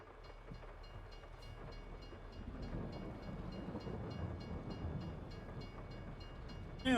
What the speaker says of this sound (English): we got here just in time for the train.